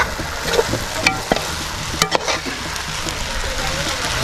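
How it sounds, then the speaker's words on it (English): Senegalese yassa ingredients, onions with lemon, vinegar and Maggi seasoning, stir-fry in hot oil: a steady close sizzle runs throughout, broken by several sharp clacks and scrapes of a utensil stirring the pan. "it's being stirred inside the oil, like that."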